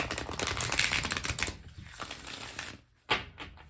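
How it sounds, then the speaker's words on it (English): A deck of tarot cards being shuffled by hand, dense papery riffling and flicking that runs steadily, then thins out, with a short sharp flutter near the end; no talking. "do one more shuffle here, and then I will actually cut the deck this time and not forget."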